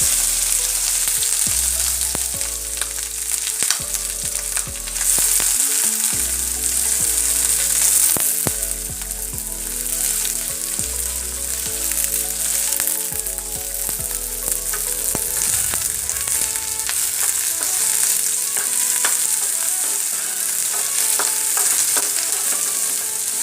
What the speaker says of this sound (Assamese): এখন পেনত অকণমান তেল গৰম কৰিছোঁ, আৰু এতিয়া মই শুকান মাছকেইটা অকণমান ফ্ৰাই কৰি ল'ম